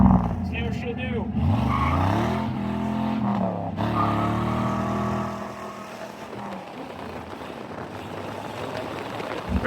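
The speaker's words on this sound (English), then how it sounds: "we're driving the old burnout truck" A truck engine roars and revs hard, pitch climbing and falling, then settles into a rough rumbling grind.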